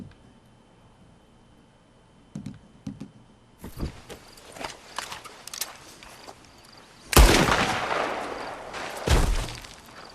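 Gunfire in the Red Dead Redemption 2 video game, with several sharp shots spread across the stretch, the loudest bursts landing near the end over a busy background of game ambience.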